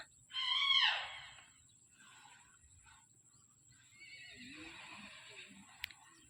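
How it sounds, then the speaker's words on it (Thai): A horse near the Mun River gives a loud, clear whinny at the start, followed by a fainter, drawn-out neigh later on, set against an otherwise quiet outdoor background. "แม่ดารุ่งได้ยินเสียงม้าร้อง"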